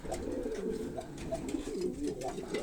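Young racing pigeon cocks coo in a loft, soft repeated throaty calls overlapping from several birds close by, with low rustling in the background and no talk.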